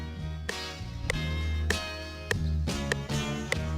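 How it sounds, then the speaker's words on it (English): An FL Studio metronome ticks steadily, about one sharp click every 0.6 seconds, over a looping music sample with sustained tonal chords and bass; the clicks sit clearly above the loop, with no voice. "See how the metronome is playing right along with the sample?"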